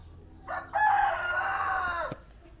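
A Minecraft rooster crows once, a long drawn-out cock-a-doodle-doo lasting over a second, loud and close, with faint clucking before it.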